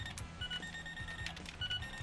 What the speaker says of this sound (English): the beeping sound